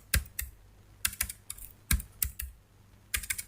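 Code being typed on a computer keyboard: close, crisp key clicks in quick irregular bursts with short pauses between them, no voice.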